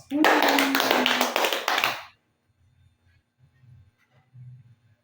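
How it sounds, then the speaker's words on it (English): Classroom students applaud themselves in a short, loud burst of clapping lasting about two seconds, which then drops off to faint low murmuring. "Please give yourself a round of applause"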